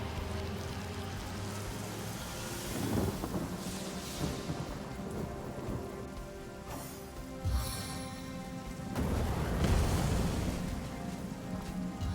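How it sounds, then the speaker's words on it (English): Steady rain pours down, with low rumbles of thunder swelling and fading in the background, from a rain spell in the video game Divinity: Original Sin. "Maybe use a rain spell? Might be nice here."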